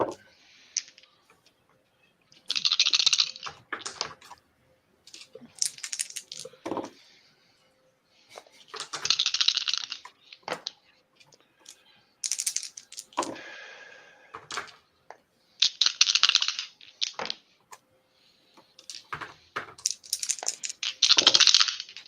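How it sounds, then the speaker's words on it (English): Dice rolled for tabletop stats clatter across a table in repeated bursts of sharp clicks and rattles, each cluster lasting a second or two with short pauses between, fairly close and clear with no talking. "Lots of dice getting chunking around."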